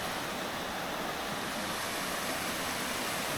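Water gushing out of large natural springs in a mountain canyon, a steady, dense roar of flowing water heard up close without pause.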